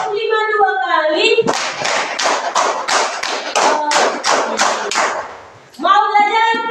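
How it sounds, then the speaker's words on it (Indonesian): A classroom of children claps hands in a counted rhythm, about a dozen crisp, evenly spaced claps in a row, with a voice speaking before and after the clapping. "Tepuk 1, tepuk 2, tepuk 3, tepuk 4, tepuk 5"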